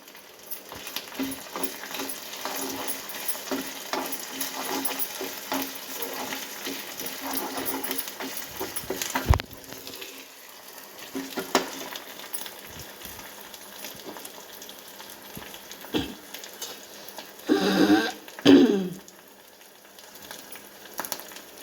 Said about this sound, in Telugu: పచ్చిమిర్చి ఎండుమిర్చి అల్లం వెల్లిపాయ పేస్ట్ కొంచెం వేగాలి